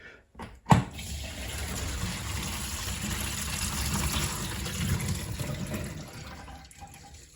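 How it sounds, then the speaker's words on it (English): Water runs from a sink down through a newly glued drain P-trap during a leak test, a steady rushing flow after a brief knock at the start, fading slightly toward the end. "And I have some water in the sink."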